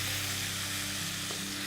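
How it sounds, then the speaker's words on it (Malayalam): Tamarind and salt water poured into hot spiced oil for Kerala-style prawn rasam, producing a loud, continuous, hissing sizzle close by. "ഇപ്പം തന്നെ നമുക്ക് നമ്മുടെ പുളിയും ഉപ്പും ചേർത്ത് വെച്ചേക്കുന്നത് അതിനകത്തോട്ട് ഒഴിച്ചു കൊടുക്കാം."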